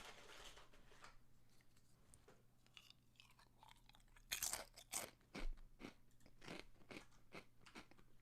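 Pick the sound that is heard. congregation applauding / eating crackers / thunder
eating crackers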